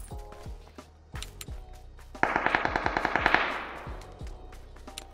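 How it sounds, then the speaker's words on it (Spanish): AK rifle fire in the battle royale game PUBG: scattered single shots, then a loud rapid automatic burst of roughly a dozen cracks with a trailing echo, followed by a few more spaced shots. "Eso fue un AK."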